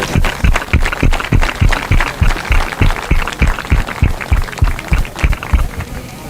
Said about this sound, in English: Let's give them all a big hand of applause.